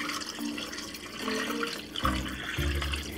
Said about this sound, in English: And we're going to add the chicken stock.